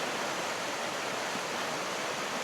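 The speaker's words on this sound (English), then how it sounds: "now we've found the gorge, or part of the water running" Water rushing through a sunny gorge in Provence, a steady broadband roar of flowing stream or small falls, continuous and fairly close with no breaks or voices.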